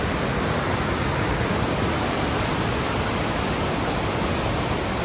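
Jog Falls on the Sharavathi river in Karnataka, where the water rushes between rocks with a loud, unbroken roar, a dense, steady wash of white noise with no voices.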